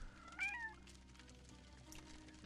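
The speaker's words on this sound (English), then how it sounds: "and we found a cat." A cat in the video game The Lost Crown gives one short, clear meow inside a pub cottage by the fire, over quiet background ambience.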